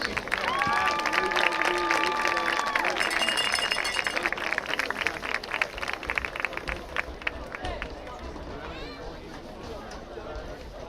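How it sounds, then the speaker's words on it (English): Audience at a high school homecoming football game applauding students, a broad wash of clapping and crowd noise under an announcer's amplified voice, with crowd chatter continuing as the applause thins toward the end. "Let's give all these students a big round of applause."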